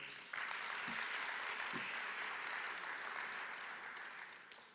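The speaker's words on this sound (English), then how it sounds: "Round of applause for him." A conference audience at a business investment conference breaks into applause, a steady wash of many hands clapping that starts abruptly and slowly fades toward the end.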